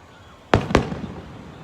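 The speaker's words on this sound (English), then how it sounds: "Oh, here we are with the fireworks." Two fireworks explode in quick succession, sharp loud bangs followed by a fading crackle and rumble against a quiet background.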